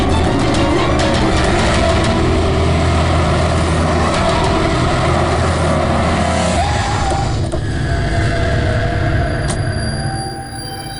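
A car speeding to overtake a taxi during a road chase, a loud continuous engine and road roar close by that holds steady for most of the stretch, then eases slightly near the end.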